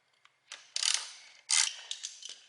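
A 12 millimeter wrench works on the brake caliper bolts of a Yamaha R6 motorcycle, producing close ratcheting clicks and metallic bursts in a few quick, uneven runs with short gaps between them.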